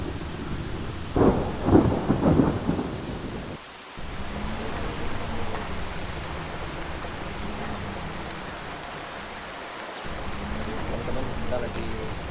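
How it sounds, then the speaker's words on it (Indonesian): Heavy rain roars steadily on a mountain trail near a waterfall on Gunung Salak, Bogor, with a low rumble beneath it and a few louder thuds near the start. "ini karena hujannya makin gede, jadi kita belum bisa nge-record"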